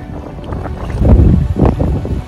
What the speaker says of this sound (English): it's getting a little big, a little bit wavy and windy